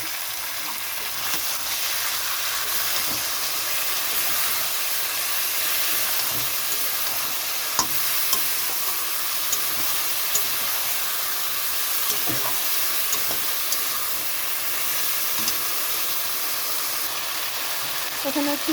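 Tomato paste, green chillies and spices frying in a pan for a thin rohu fish curry, giving a steady close sizzle with faint stirring scrapes throughout, with no voices.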